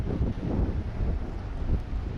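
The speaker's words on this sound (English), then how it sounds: "Bow thrusters going crazy." Bow thrusters run on a boat at anchor during a storm off Turkey, a low churning rumble buried under loud, gusty wind buffeting that rises and falls throughout.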